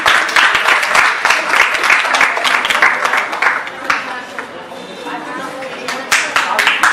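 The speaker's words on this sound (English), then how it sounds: "Please a round of applause." An audience at a school prize giving ceremony claps in a steady round of applause that thins briefly midway before swelling again, with chatter and talk mixed underneath.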